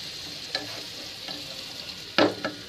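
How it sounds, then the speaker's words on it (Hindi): Egg curry ingredients frying over a flame toward light brown, a soft steady sizzle with a few occasional spatula scrapes, one louder stir near the end. "थोड़ा इसको भी मैं आग में थोड़ा हल्का ब्राउन तक फ्राई करूंगी।"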